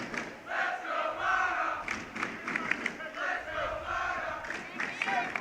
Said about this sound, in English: Got a cheer going on in the crowds.